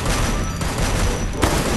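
A loud, continuous burst of gunfire from a video game fills the short stretch, with a dense volley of shots and a sharper crack near the end.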